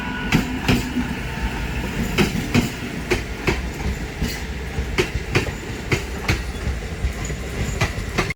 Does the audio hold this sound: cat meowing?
no